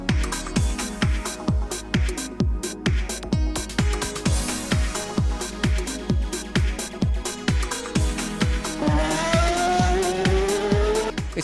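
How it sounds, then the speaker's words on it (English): Giancarlo Fisichella drives a Scuderia Ferrari Formula 1 car in a Moscow City Racing street exhibition. A loud, rapid, regular series of engine pulses gives way to a rising high-revving whine with tire squeal. "Giancarlo Fisichella is the protagonist of Scuderia Ferrari exhibition at Moscow City Racing"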